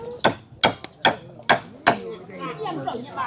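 Hammering on a house under construction comes as five sharp, evenly spaced blows, close and loud, followed by lighter knocks and clatter with faint voices in the background.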